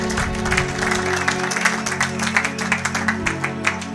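Church congregation applauding during a sermon, with steady sustained clapping layered over a held musical tone, loud and continuous throughout.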